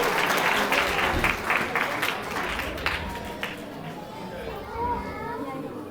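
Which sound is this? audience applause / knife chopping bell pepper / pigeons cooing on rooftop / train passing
audience applause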